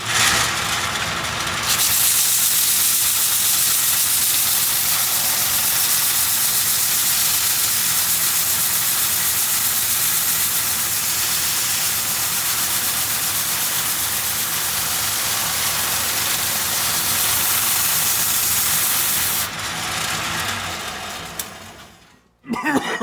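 A person sands wood on a 1940s Wilton vise with 120 grit sandpaper, producing a loud, continuous hissing rasp that runs steadily for about twenty seconds before fading and stopping.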